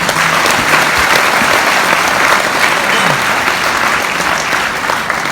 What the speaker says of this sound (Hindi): जोरदार तालियां वरिंदर जी के लिए।